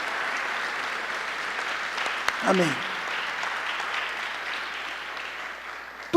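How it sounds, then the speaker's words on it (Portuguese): Sustained applause from a church congregation, a dense even patter of many hands filling the room throughout, with a brief voice rising through it midway. "Aplauda o nome do Senhor Jesus, amados."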